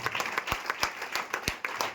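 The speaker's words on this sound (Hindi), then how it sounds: "स्तुति की ताली देंगे।" A church congregation claps in praise together in a steady, brisk rhythm, the applause even and fairly close for about two seconds.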